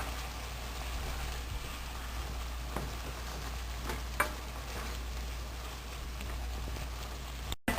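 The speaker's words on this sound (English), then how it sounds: "and again stirring." Papaya chutney cooking in a pan with lemon juice sprinkled in, giving a steady soft sizzle and crackle with a few sharper spoon-scrape clicks, close and continuous with no talking.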